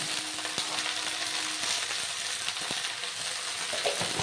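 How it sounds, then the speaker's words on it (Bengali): Okra (bhindi) fries in hot oil with turmeric and salt, giving a steady close sizzle with a few scraping knocks as the pan is stirred. "এবার মিশিয়ে নিচ্ছি নাড়াচাড়া করে নুন আর হলুদ"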